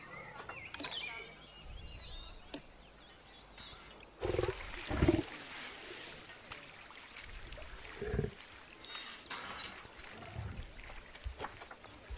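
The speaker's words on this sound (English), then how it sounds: "Panthera Leo Leo, or the West African lion to you and me." A West African lion in the Planet Zoo video game gives a few deep roars and grunts over a busy ambient bed of wildlife and birdsong, moderately loud and without talk.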